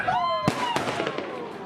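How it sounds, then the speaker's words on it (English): Fourth of July fireworks over Gas Works Park in Seattle, a whistling rise followed by two sharp bangs and crackling bursts, heard from a distance with a crowd murmuring. "watched the 4th of July fireworks go off at Gasworks"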